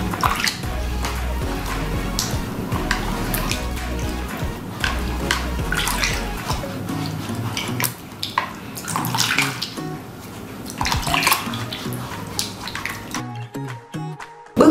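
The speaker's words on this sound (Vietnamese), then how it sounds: "bây giờ mình sẽ đem quả đu đủ này đi rửa qua với nước để loại bỏ đi nhựa của đu đủ" Water runs from a tap over a peeled papaya, a loud, continuous splashing gush with shifting sloshes as the fruit is turned. It cuts to near silence just before the end.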